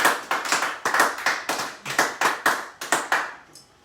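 A church congregation claps together in rhythmic unison, about a dozen strong, evenly spaced beats, each rising and decaying, then fading to near silence at the end.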